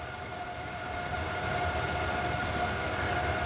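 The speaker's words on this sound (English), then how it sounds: "You can hear, as you get closer, you can definitely hear the fan sounds to that." A fan's steady, muffled hum with a faint whine sits behind a VEVOR sound dampening blanket, 96 by 80 inches. The drone stays constant and even throughout, with no voices.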